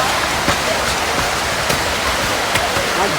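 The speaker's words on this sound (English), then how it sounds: "This is Arinta Waterfall." Arinta Waterfall in Ekiti State, Nigeria, roaring as a loud, dense, continuous rush of falling water close by, with no pauses.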